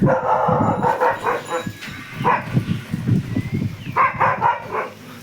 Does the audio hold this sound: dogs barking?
yes